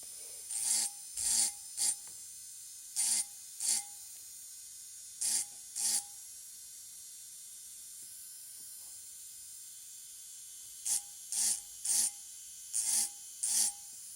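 High-pitched whirring bursts from a small engraving drill touching glass, in short clustered pulses separated by quiet gaps.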